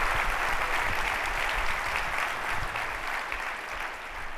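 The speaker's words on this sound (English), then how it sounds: "One more round of applause for legendary Bob Foster." A sustained round of applause from a large convention audience at a Walt Disney World anniversary event, dense, even clapping that holds steady for several seconds and eases slightly at the end, with no talk.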